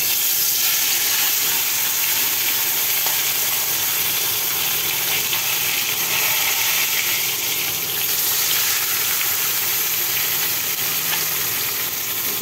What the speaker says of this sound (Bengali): তেল গরম হয়ে গেছে, এখন মাছ দেব।